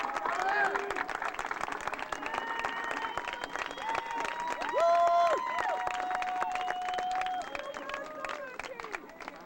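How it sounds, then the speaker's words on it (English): A crowd applauds and cheers for the 1997 Superchief Marching Band at a fan appreciation night, steady dense clapping throughout with tonal band or horn notes and crowd noise mixed in. "One more time, some big applause for the Superchief."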